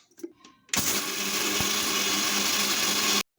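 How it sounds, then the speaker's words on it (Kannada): An electric mixer grinder grinds a fenugreek flour mix: after a few faint knocks it starts abruptly into a loud, steady whirring roar, then cuts off sharply about two and a half seconds later. "ಇದನ್ನು ಮಿಕ್ಸಿಗೆ ಹಾಕ್ಕೋಬೇಕು."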